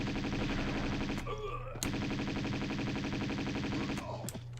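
Enemy gunfire in Tomb Raider 2 on the wreck of the Maria Doria, with rapid repeated shots over a loud, dense game soundtrack and sharp transient cracks near the start and end.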